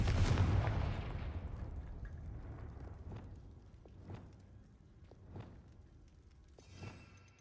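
A fire-spell blast from the Hogwarts Legacy video game opens with a loud, heavy boom, followed by several sharp explosive cracks spaced about a second apart that gradually fade.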